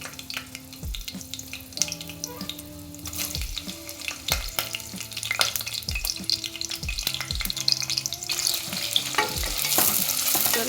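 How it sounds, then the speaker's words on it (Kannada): Onion and green chillies dropped into hot oil for a veg biryani, a constant close sizzle with frequent clanking stirs and scrapes of a spoon against the pan, no one speaking. "ಇವಾಗ ಎಣ್ಣೆ ಕಾದಿದೆ, ಈರುಳ್ಳಿ ಹಸಿಮೆಣಸಿನ್ಕಾಯಿ ಹಾಕ್ತಾಯಿದ್ದೀನಿ."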